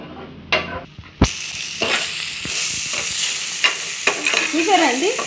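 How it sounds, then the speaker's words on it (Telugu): Chopped tomatoes tossed into a hot pan of oil burst into a loud sizzle after a few clinks, then a steady frying hiss follows with periodic stirring knocks and a short squeaky scrape near the end. "కలుపుకున్న తర్వాత ముందుగా మనము తరిగి పెట్టుకున్న టమాటా ముక్కల్ని వేయాలి"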